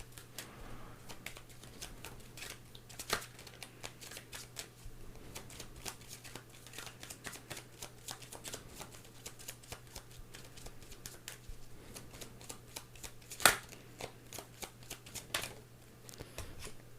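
Tarot cards shuffled by hand during a reading, giving a rapid, soft riffling patter that runs steadily throughout with a few sharper snaps, close and fairly quiet over a low hum, with no talking.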